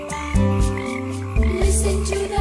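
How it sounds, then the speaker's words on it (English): A frog croaks at night, close and loud, in a run of deep, rhythmic croaks that repeat several times over a few seconds with nothing else heard. "Froggy singing."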